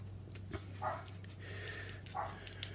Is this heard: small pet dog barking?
yes